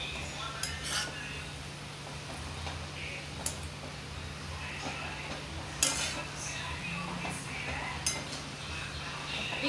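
Sheglyachi bhaji, a drumstick leaf vegetable dish topped with crushed peanuts, is stirred in a pan with a soft sizzle, punctuated by sharp spoon clinks against the metal, with a steady low hum underneath.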